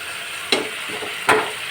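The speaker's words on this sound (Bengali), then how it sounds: "এই যে আমি মশলাটা মিশিয়ে নিলাম এখানে" Spices mixed into small fish cooking in a pan, two brief scraping stirs over a soft steady sizzle, close and fairly quiet.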